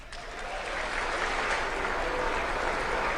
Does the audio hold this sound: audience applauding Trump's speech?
yes